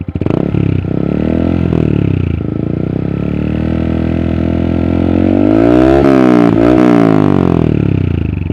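A Yamaha MT15 motorcycle with a full system exhaust revs up close and loud, a deep steady drone that rises in pitch, swings up and down, and drops back toward idle, with no talking.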